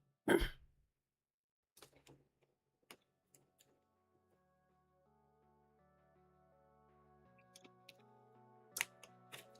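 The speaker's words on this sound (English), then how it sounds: "Having a random spot clear my throat." A man clears his throat once, loud and close, at the start during a sports betting livestream, followed by a few quiet clicks and faint music in a quiet room.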